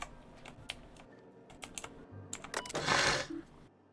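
Loud clacking of a computer keyboard, irregular bursts of keystrokes building to a dense flurry near the end, close and with no talking over it.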